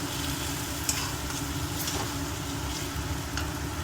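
Meal maker masala gravy sizzles steadily in a pan while a spoon stirs it, with a few faint scrapes over a constant close frying hiss.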